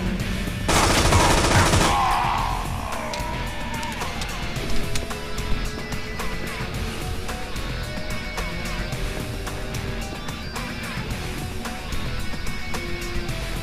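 Rapid automatic gunfire crackles steadily through a firefight in the video game Infernal, with a dense burst early on and continuous shots layered under game noise.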